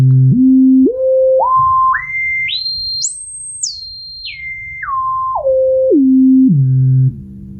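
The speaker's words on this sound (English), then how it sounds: "we're going to play these audio tunes through a speaker that's facing the wall" Pure test tones from a speaker aimed at a wall step upward in pitch one after another to a high peak, then step back down in a mirrored sequence, loud, steady and electronic, with no talking.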